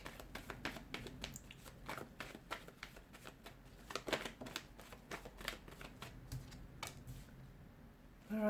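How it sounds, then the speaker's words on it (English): Tarot cards being shuffled by hand, a rapid series of crisp riffling and flicking bursts repeated throughout, close and fairly quiet with no talking. "give the cards a shuffle"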